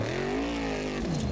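A Formula Offroad buggy roars up the final hill climb at an Icelandic competition in Blönduós, its engine revving hard and loud, pitch climbing and holding before dropping briefly, with no talk over it.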